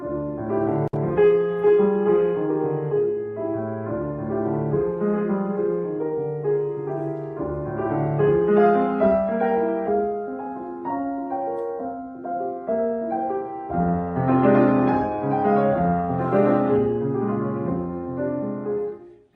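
Solo Latin jazz piano plays live in concert, a flowing, expressive piece with rich chords and melodic lines, rising and falling in intensity, with no voices.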